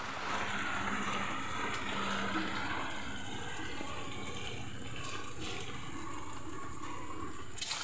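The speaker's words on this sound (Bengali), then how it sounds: "বৃষ্টি দেখো" Steady rain falls outside a kitchen, a continuous even hiss with a faint low patter, no voices.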